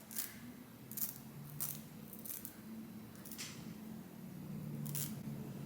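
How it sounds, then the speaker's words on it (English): Quiet, brief scraping snips of a razor cutting the lace of a lace frontal wig repeat at irregular intervals, each a short crisp cut, over a low steady hum in a still room. "So you use some kind of razor to do this."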